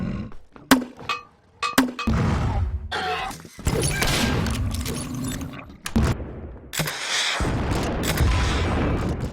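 Weapon sound effects from the Cube 2 video game, built from Foley, synths and library sounds, with a series of loud punchy shots, booms and crashes, some sharp and isolated, others followed by sustained rumbling blasts.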